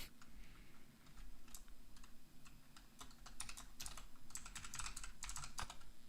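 Rapid clicking of a computer keyboard being typed on, steady bursts of close keystrokes over a low background hum, no voices.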